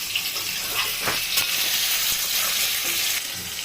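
Potatoes frying in a pan for a potato, cauliflower and prawn curry make a continuous close sizzle, with a few faint knocks and stirring clicks mixed in.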